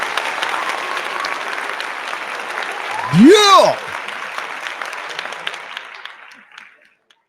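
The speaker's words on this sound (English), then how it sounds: "round of applause." Audience applause opening a podcast episode, steady and full, with a sweeping whoosh effect cutting through midway before the clapping fades out; someone briefly speaks.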